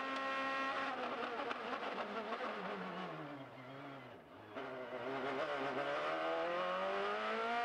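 IndyCar race cars roar past on the Toronto street circuit, engines howling and shifting pitch as they approach, dip and accelerate away, loud and continuous.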